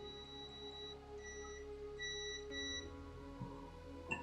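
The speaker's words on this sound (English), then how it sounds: "Multimeter, diode mode. When it's in diode mode, you basically hear the sound." A multimeter set to diode mode beeps while probing the broken HDMI port board of a PlayStation 4 Slim, a steady tone with short higher chirps over a faint background hum, fairly quiet and close.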